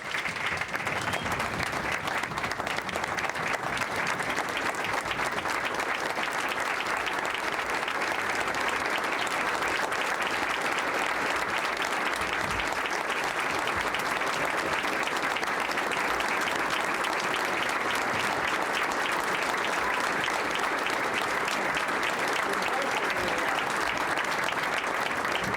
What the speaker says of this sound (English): Otherwise, I much more enjoy the applause.